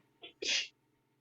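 A single quick sneeze, a short sharp intake followed by a hissy burst, close and fairly quiet against a faint background.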